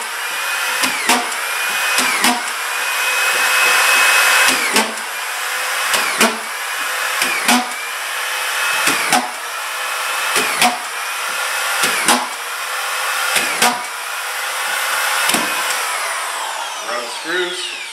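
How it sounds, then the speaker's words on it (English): A Senko auto-feed screw gun drives screws into a floor, giving a loud high whine broken by repeated sharp bursts. It fires about ten times in a steady rhythm, close up. "We're going to go back with our screw gun and screw everything off."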